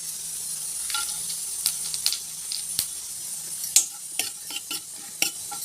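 Hot oil sizzles steadily at close range, punctuated by sharp crackles and pops as fennel seeds, cinnamon, cloves, stone flower and bay leaf fry, with occasional stirring clinks.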